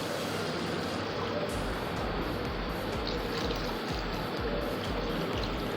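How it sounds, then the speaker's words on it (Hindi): Strained mutton yakhni broth poured steadily into a cooking pot for pulao, a continuous watery splashing and trickling that stays close and fairly even throughout. "अब इसमें यखनी ऐड कर देंगे जो हम लोगों ने छान के रखी हुई है।"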